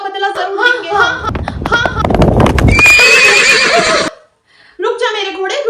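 A horse whinnies loudly and close while hooves clip-clop in a steady rhythm in an animated Snow White story, with voices speaking before and after.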